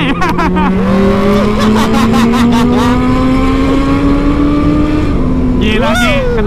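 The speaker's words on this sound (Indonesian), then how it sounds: "knalpot lo bener-bener sadis Ki, asli Ki." A motorcycle fitted with a loud aftermarket exhaust revs on a city street, giving a steady droning engine note that climbs slowly in pitch, with sharp rev blips at the start and end and voices nearby.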